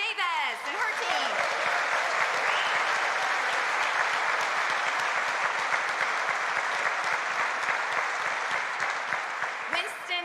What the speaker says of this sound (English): ask for a round of applause for the amazing leadership of our Assistant Dean for Students, Joanne Davis, and her team